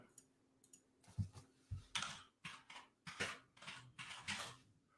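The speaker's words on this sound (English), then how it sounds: "So while you're pecking away on the keyboard" Fast pecking on a computer keyboard, irregular bursts of close key clicks and taps with brief pauses, fairly quiet, no talking.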